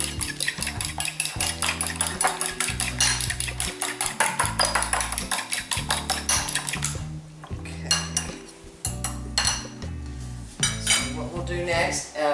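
A fork whisks a freshly broken egg in a bowl, giving a fast, steady run of bright clinks against the bowl's sides, close and fairly loud, easing off midway before a few more bursts of stirring.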